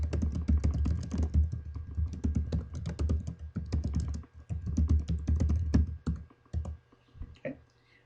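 Rapid computer keyboard typing clatters continuously as a folder name is entered, with dense, close keystrokes that pause briefly near the end, and there is no talk.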